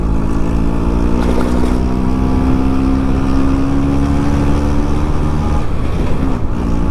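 An LML Vespa two-stroke scooter is ridden, its engine buzzing loudly and steadily close to the rider, with wind noise over it.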